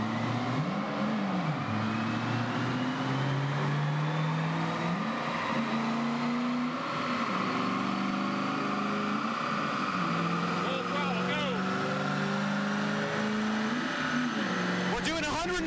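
A car pulls away from a stop in first gear, its engine rising in pitch through repeated rev climbs as it accelerates steadily down the street, with a person talking over the continuous engine drone.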